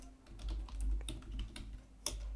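Computer keyboard being typed on while an SQL query is entered in MySQL Workbench; a quick, uneven run of close key clicks with brief pauses and a sharper tap near the end, no talking.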